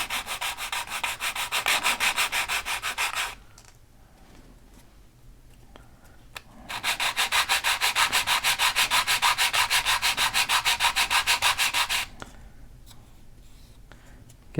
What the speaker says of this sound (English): So I'm just going to take the two pieces, put them together, and on some 220, just going to sand all four edges.